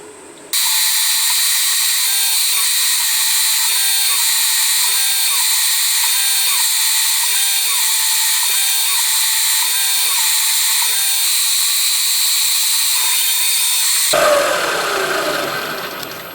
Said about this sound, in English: we'll go ahead and change this out for a center drill and at least mark the holes anyway